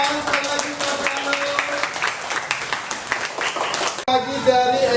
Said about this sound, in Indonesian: tepuk tangan sekali lagi bersama